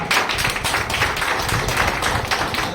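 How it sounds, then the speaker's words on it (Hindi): An audience gives dense, continuous applause, many hands clapping together steadily and loudly throughout, with no talking over it. "ताली जोरदार नहीं हुई"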